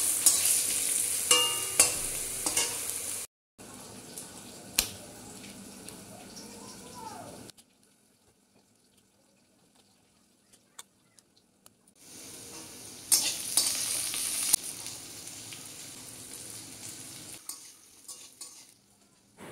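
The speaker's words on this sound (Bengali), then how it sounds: "এই একটু শুকনো লঙ্কা, সাদা জিরে আর কালো জিরে ফোড়ন দিয়ে দিলাম। একটু আলু দিয়ে দিলাম।" Potatoes fry in oil with dried red chilli, cumin and nigella seed tempering, a soft sizzle with stirring and utensil clinks that drops out into near silence midway before returning.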